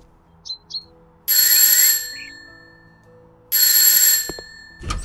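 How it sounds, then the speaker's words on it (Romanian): A doorbell in the House Flipper video game rings twice, each a loud bright electronic chime lasting under a second, separated by quiet room tone with a few faint chirps and a short knock at the end. "Dacă există vreun hoț în casă, o să-l sperii teribil cu soneria mea."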